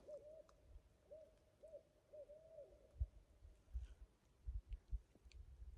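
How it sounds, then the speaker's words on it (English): An owl hoots repeatedly in a soft, rhythmic series, distant and faint, over quiet outdoor background on the Appalachian Trail with occasional low thumps. "Do you hear that owl?"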